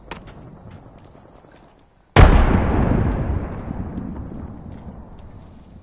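A frag grenade goes off in the shooter game Apex Legends: one sudden loud blast that cuts through quiet game ambience, followed by a long rumbling decay that slowly fades over several seconds.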